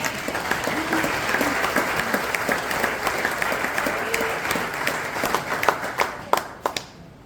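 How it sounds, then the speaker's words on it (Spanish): A church congregation bursts into sustained applause, dense crowd clapping that holds steady and then thins to a few scattered claps at the end. "Le damos un aplauso al Señor."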